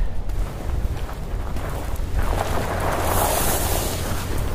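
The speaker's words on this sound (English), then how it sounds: "Wind's blowing good and solid." Strong, steady wind blows outdoors, a broad rushing roar that buffets the microphone and swells louder in the second half, with no voices.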